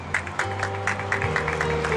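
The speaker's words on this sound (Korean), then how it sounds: "더 큰 박수로 맞이해 주시면 고맙겠습니다." A crowd at an outdoor candlelight rally for striking workers claps to welcome a singer, scattered rhythmic clapping over a steady low hum.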